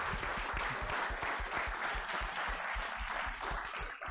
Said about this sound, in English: If we can just give each of them a round of applause.